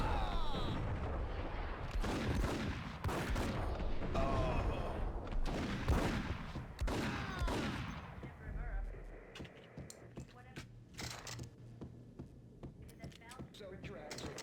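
Gunfire in the Max Payne video game: rapid bursts of sharp shots and booming impacts, dense at first and sparser toward the end, mixed with game voices and talking throughout.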